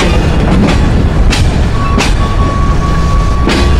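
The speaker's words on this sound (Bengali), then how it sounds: "আমাদের আন্তনগর চিত্রা এক্সপ্রেস ট্রেনটি প্রবেশ করলো" The Intercity Chitra Express rolls into the platform at Khulna railway station, a loud, close, continuous rumble and rattle of wheels on rails with occasional sharp clanks and a thin brake squeal.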